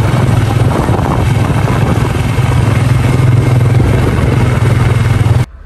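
A motorcycle engine drones loud and close with a steady, rough, clattering rumble that holds constant, then cuts off abruptly at the end.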